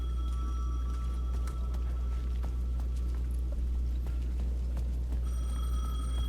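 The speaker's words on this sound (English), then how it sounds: "The payphone at the edge of the plaza was ringing again." A payphone in the video game Alan Wake 2 rings steadily at the edge of a plaza, over a constant low hum and background ambience, with no voices.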